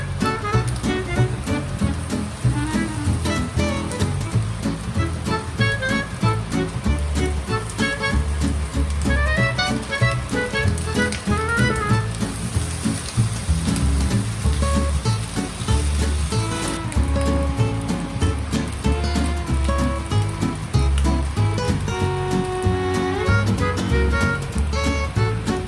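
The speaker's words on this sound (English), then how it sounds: "Cut into small pieces and flip rice cake." Small pieces of luncheon meat rice cake fry and get flipped in a wok, giving a constant close sizzle with occasional scraping turns under background music.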